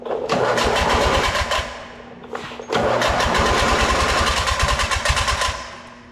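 A free Ford lawnmower engine cranks and fires up, running loud and rough with a rapid thumping beat, briefly dropping in revs before catching again and roaring on.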